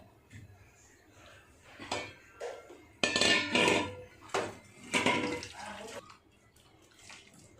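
Boiled food tipped from a pressure cooker into another pot in a home kitchen, giving a series of wet splashing pours and metal pot clatter, loudest in two bursts near the middle, with no talking.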